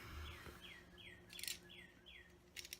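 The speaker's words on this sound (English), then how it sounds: "Do you hear those loud birds? They are loud and they are right outside my window." Birds chirp repeatedly outside, a series of clear descending whistled calls in a steady rhythm, with a few sharp bursts of rustling noise between them.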